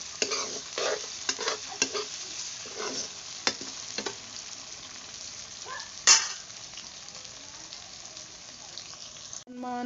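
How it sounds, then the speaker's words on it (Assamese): Sliced onion frying with ginger and garlic in a pan, stirred now and then, giving a steady close sizzle with scraping stir strokes and a louder clatter near the end. "আদা ৰচুন অকণমান দি দিছোঁ আৰু মই ধুনীয়াকৈ কেঁচা গোন্ধ যোৱালৈকে ভাজি থাকিম"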